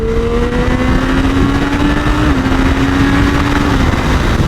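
Motorcycle engine accelerating while merging onto a highway, a steady rising engine drone with wind roar, loud and close throughout, no talking.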